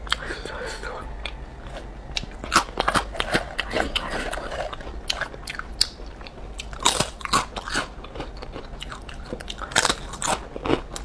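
Sesame seaweed cookies are bitten and chewed right at the mic, sharp crisp crunches in uneven bursts among softer chewing, with quiet speech now and then.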